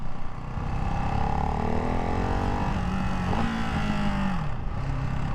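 A 2024 Ducati Hypermotard 698 Mono RVE motorcycle engine drones steadily and loudly, its pitch rising and falling as it shifts down through the gears, with wind noise throughout.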